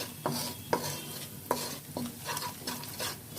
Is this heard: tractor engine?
no